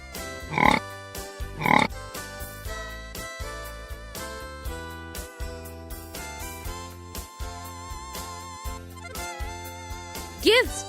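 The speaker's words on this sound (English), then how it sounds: "Pig." A few short pig grunts break through a busy musical backing, two close together early on and another near the end.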